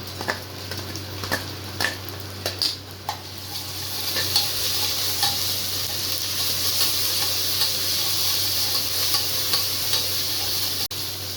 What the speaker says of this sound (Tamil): இப்போ வெங்காயம் வதங்கிடுச்சு. இஞ்சி பூண்டு ஒரு 2 ஸ்பூன் போட்டுக்கலாம்.